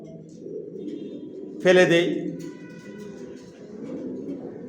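Pigeons in a newly prepared bedding loft give a brief, fairly close coo that swells for a moment over steady background murmur, with a person talking through most of it.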